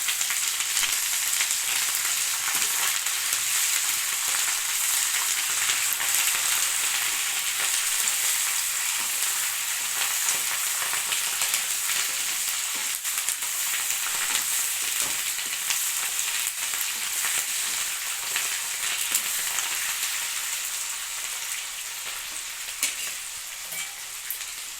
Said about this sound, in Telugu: ఇందులో ఈ కరివేపాకును కూడా వేయించుకోవాలండి బాగా